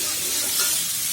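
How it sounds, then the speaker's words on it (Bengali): Potato pieces frying in hot oil and being stirred, a steady, loud crackling sizzle close to the pan with no one speaking. "এভাবে নেড়েছি আমি আলুগুলোকে ভেজে নেব।"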